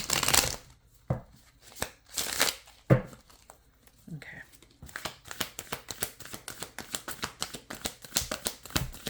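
Tarot cards riffled and shuffled in a run of quick papery flutters and snaps, irregular bursts early then a denser rapid patter of card flicks, close and fairly quiet, with a person speaking softly between them.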